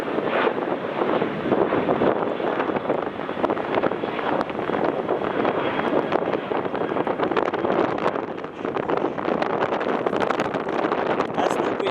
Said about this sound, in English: The wind is very strong here